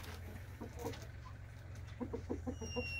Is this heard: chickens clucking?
yes